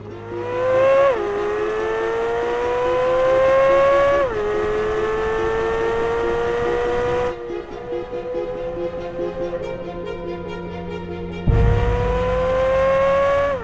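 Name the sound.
Chevrolet Corvette Z06 driving fast on a race track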